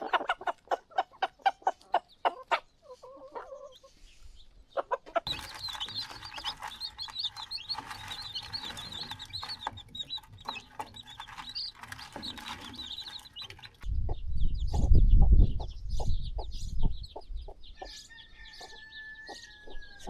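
Chickens at an off-grid homestead in Portugal cluck in rapid repeated bursts, with steady chirping and a low rumbling noise partway through, nearby and moderately loud with no speech.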